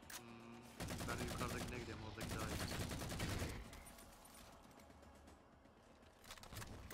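Loud, dense bursts of rapid turret gunfire from the video game Halo 4, firing in sustained volleys with brief gaps, then fading into quieter game effects near the end.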